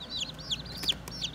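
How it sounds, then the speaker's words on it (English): Six Barred Rock chicks peep nearby in a quick series of high, sharp chirps about every third of a second, heard clearly without any talking. "picked up some barred rock chicks, just 6 of them."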